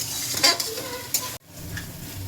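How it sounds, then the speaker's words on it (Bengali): Chicken cooking with salt, turmeric, cumin, coriander and garam masala in a pan, a close sizzle with a few scrapes of a stirring utensil, briefly cutting off midway before the frying resumes. "সব কিছু দিয়ে চিকেনটা ভালো মতন স্বাদ করে রান্না করতে হবে।"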